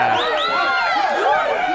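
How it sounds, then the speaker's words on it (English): A bar crowd sound effect of many voices yelling and hollering together, a dense, loud, steady wall of shouting with no pauses. "This one's called Bar Crowd Yelling 4."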